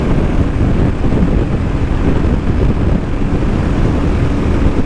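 Wind blast hitting a motorbike rider at around 110 km/h, a loud, continuous low roar and buffeting rush with no break, with no talking.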